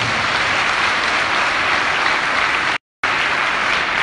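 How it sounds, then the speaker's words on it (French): Dense, loud audience applause fills the hall at a public gathering in Ouagadougou, continuous clapping that cuts out abruptly for a moment before resuming just as strongly. "pour qui je vous demande également d'applaudir"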